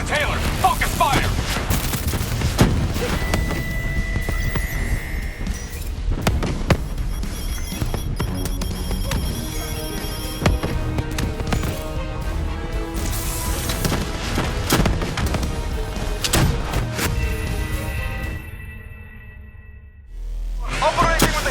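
Sustained gunfire and heavy booms from a Call of Duty: Black Ops 3 battle against a Manticore, with dense, continuous shots and blasts close up and voices calling out over the fighting, dropping briefly near the end.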